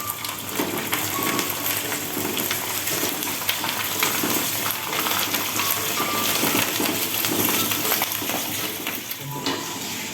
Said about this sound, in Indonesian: Saatnya kita goreng kerupuk ya